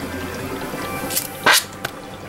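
Water forced by hydrogen gas out of a tank in a home electrolysis setup splashes and drips back into a bucket in close, brief gurgles and spatters over a faint background hum.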